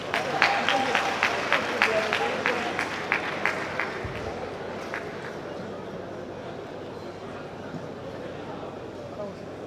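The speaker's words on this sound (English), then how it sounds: "A very warm round of applause for this very intelligent speaker." An audience at a Nigerian accountants' broadcast event applauds a speaker after a presentation on financial statements, with dense, steady clapping that is loud at first and slowly thins and fades over the following seconds.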